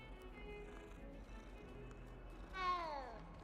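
A cat in Hogwarts Legacy lets out a single clear rising meow near the end, over low ambient game music and background noise.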